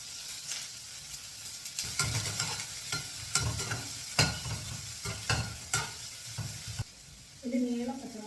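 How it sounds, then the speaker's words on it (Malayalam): Chopped onions sauté in a pan with a steady sizzle and repeated scraping stirs, the clatter of the utensil rising and falling up close before a brief quieter stretch at the end. "അരിഞ്ഞ് വെച്ച സവോള ഒന്ന് വഴറ്റിയെടുക്കാം കേട്ടോ."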